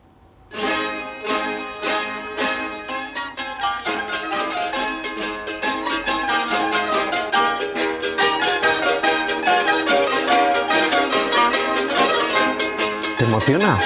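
Folk music from the Ribera de Navarra, close to Aragonese tradition, plays as a continuous lively ensemble of strings with rapid strummed or plucked notes. It swells in from silence and holds steady, loud and full.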